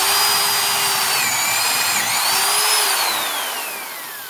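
Power drill boring into wood with a forged spade bit, a loud close whine that shifts in pitch under load and then winds down toward the end.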